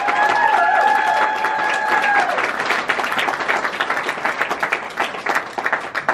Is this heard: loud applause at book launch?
yes